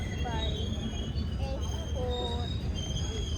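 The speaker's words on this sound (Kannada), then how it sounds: "ನಮ್ಮದು ಟ್ರೈನ್ ಬಂತು" A train pulls into a station on a family trip to Mantralayam, with a continuous low rumble and high metallic wheel squeals rising and falling, while voices murmur faintly in the background.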